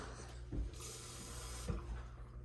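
Water poured into a Ninja blender jug for mango lassi, a soft steady splashing stream with two brief louder gushes, quiet and close.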